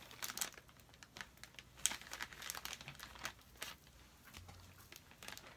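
A baby wipe is rubbed over the embossed areas of a handmade card, giving soft crinkly brushing and papery rustles in short irregular bursts, close and fairly quiet with no talking.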